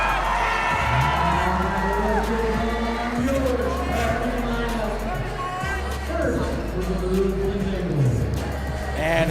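Spectators from both Lewiston and Clarkston fill a gym with loud, sustained cheering and whoops, layered with a dense crowd roar and a steady low rumble that keeps going the whole time.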